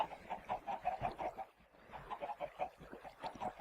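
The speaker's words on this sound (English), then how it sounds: "As you can hear, I've got a chicken farm set up." Chickens on a farm in a video game cluck in quick, choppy bursts that pause briefly before resuming. The sound is moderately faint, with no speech.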